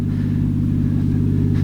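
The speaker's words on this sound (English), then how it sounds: "Exhaust sounds great." A 1996 Toyota Chaser JZX100 turbo with a five-speed gearbox idles and revs through its exhaust, giving a steady, deep, loud engine drone close by with a slight rise near the end.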